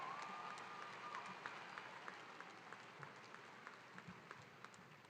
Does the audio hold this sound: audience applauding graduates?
yes